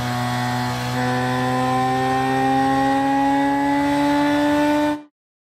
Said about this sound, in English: we can hear that the RPM of the engine is kind of stable and it's high rev